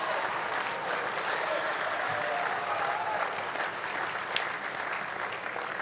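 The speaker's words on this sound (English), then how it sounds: "The crowd right into this, Kath" Sustained, dense applause and cheering from a tennis crowd at a United Cup 2026 mixed doubles match, filling the full stretch at steady loudness with no pause.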